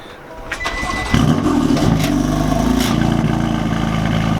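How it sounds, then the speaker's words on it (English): A Toyota car engine cranks briefly and then catches, settling into a loud, steady idle that stays close and continuous, with no talking over it. "You ready for the Toyota Igo to fire up?"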